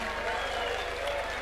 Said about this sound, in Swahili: tuwapigie makofi